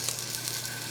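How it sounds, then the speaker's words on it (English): A cube of ice drops into a hot pot of Cajun jambalaya cooked camp style, setting off a steady close sizzle and hiss of frying. "I'm just going to drop a cube of ice in here"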